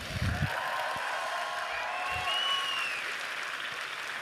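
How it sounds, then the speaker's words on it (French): Audience applause for performers at a Disneyland Paris conference, a steady wash of clapping filling the room at moderate level, with faint cheering mixed in. "applaudissements."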